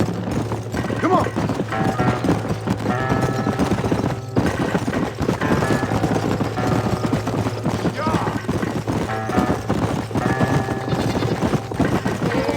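Hooves of a galloping horse in the video game Red Dead Redemption pound in a quick, continuous clip-clop rhythm, loud and close, with faint game sounds and voices around it.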